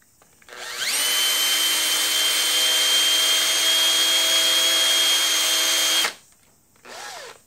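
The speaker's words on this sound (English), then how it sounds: "Drill some holes, put some zip ties." Power drill boring holes during a GPS tracker install, a loud steady whine for about five seconds that stops abruptly, followed by a short second burst that spins up and down.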